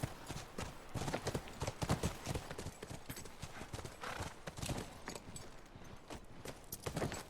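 Horses' hooves clip-clop steadily on hard ground in a scene from The Last of Us, the quick overlapping footfalls of more than one horse running throughout at moderate distance over a busy background.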